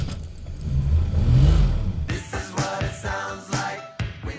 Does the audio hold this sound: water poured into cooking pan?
no